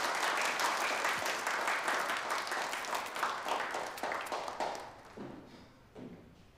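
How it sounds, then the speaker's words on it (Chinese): An audience applauds with dense, loud clapping that gradually thins and fades out over several seconds, a few last claps trailing off at the end. "好，鼓掌。"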